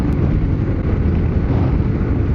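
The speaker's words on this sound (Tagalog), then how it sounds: "sobrang lakas ng hangin" Strong wind buffets the microphone on a motorcycle trip along the coast at Casiguran, Aurora, making a constant loud roar that fills the clip with no voices.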